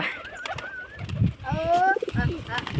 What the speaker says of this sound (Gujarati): આપણો કાયદેસર નર ઘૂગવા માંડ્યો હે